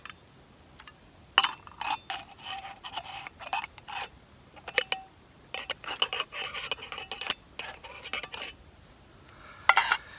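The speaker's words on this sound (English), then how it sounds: "put the lid back on it" A metal lid clinks and rattles onto a pot on a budget propane ultralight camp stove, a series of sharp close metallic taps and scrapes with brief pauses between them.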